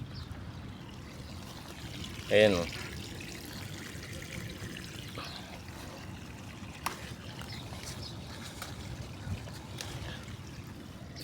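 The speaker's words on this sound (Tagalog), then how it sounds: "pinapaagusan ko pa yan guys ng tubig" Water flows and trickles steadily to irrigate squash plants in a dusty vegetable garden, a quiet continuous wash with one brief louder splash, faint and under light ambient noise.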